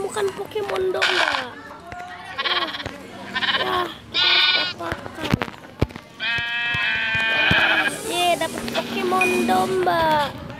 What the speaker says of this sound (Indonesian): oh, kita menemukan Pokemon domba.